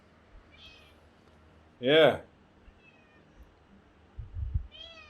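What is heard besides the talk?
cat meowing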